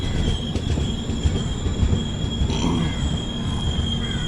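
Inside an AC Economy coach of the 16381 Pune Kanniyakumari Express, a loud, steady rumble of wheels on rails continues throughout. A thin high wheel squeal and faint rhythmic clatter run beneath it, with no voices.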